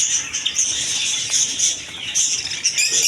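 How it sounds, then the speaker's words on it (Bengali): Many Java sparrows chirp together in a bird shop, a dense, continuous high twittering that stays busy and fairly loud throughout, with no talk. "এদিকে আছে অসংখ্য জাবা পাখি"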